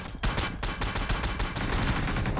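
Rapid automatic gunfire from a PUBG Mobile match, dense bursts of shots cracking loudly and continuously with brief gaps between volleys.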